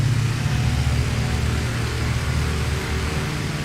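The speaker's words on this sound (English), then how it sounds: "I feel like we're ready to get these engines humming." Aircraft engines idle in the flight sim IL-2 Cliffs of Dover, a steady, loud droning rumble with a deep low hum that holds constant throughout.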